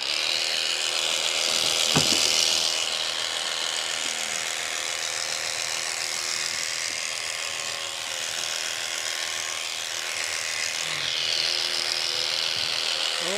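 Steady electric buzz of clippers trimming a dairy cow being prepared for market sale, running close and continuously throughout with a few faint handling noises.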